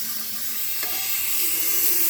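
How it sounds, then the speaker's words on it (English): Cleaner boils off in a tank with a steady, close hissing and sizzling wash, broad and even, with a faint bubbling undertone and no voices. "And the boiling off with the cleaner"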